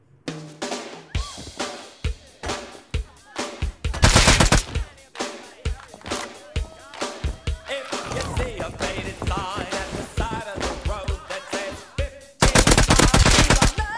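Rapid automatic gunfire from the survival game Rust comes in loud, dense bursts of shots, with two sustained volleys and scattered single cracks between them.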